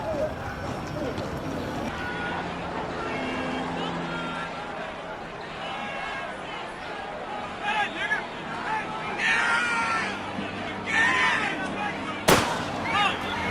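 At a rally, one sharp gunshot cracks out near the end, rising briefly over a restless crowd with voices and commotion throughout.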